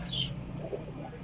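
Flying pigeons being handled and checked by hand give soft, low cooing close by, a brief gurgling call over faint background rustle.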